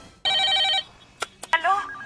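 A telephone rings in a film scene about a call to a chief minister's hotline, a steady electronic trill lasting about half a second, followed by a few sharp clicks and a short tonal chirp.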